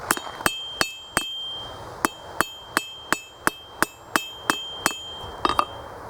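A blacksmith's sharp metallic hammer blows ring out at a steady rhythm, about a dozen strikes on metal bracelet stock, close and loud with ringing overtones between hits.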